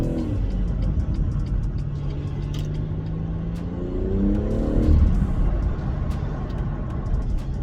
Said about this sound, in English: most of the noise that you're hearing is pretty much engine noise